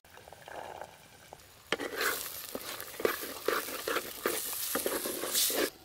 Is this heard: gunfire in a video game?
no